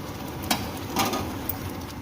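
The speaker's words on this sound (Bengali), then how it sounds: "এবার তেলে সমস্ত মশলা দিয়ে দিয়েছি। যা মশলা করেছিলাম সমস্ত মশলা দিয়ে দিয়েছি। দিয়ে এবার খুব ভালো করে কষিয়ে নেব।" Spice masala fries in oil in a pan after paneer has been fried, giving a continuous soft sizzle and crackle. A few brief spatters or stirring taps stand out, with no talk over it.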